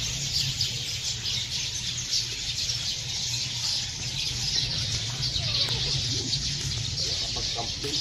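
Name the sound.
many birds chirping at a farm in the morning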